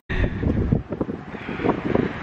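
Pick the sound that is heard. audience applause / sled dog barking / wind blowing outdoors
wind blowing outdoors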